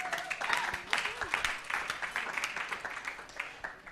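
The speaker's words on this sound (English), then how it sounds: "round of applause, Sister Berna." A crowd claps steadily for several seconds, a lively round of applause with bursts of cheering near the start.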